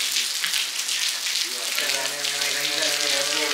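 Steady rain falls in a dense, continuous hiss during a sudden change to cloudy, rainy weather, with a low hum joining partway through and no talk over it.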